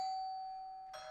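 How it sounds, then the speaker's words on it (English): A doorbell chimes once with a clear ringing tone that slowly decays, followed by a brief second strike near the end, heard alone in a quiet room. "the doorbell rang"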